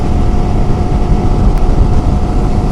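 KTM 390 Adventure R motorcycle engine held below about 6,500 RPM while riding during break-in on 70/30 off-road tires, a steady loud drone with a constant tone and rushing wind, no talk.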